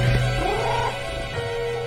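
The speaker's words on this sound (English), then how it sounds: "The cat emits a sequence of low-pitched mewing" A cat in the video game Death and Taxes gives a short melodic run of low mewing with rising and falling pitch over a steady tonal background hum.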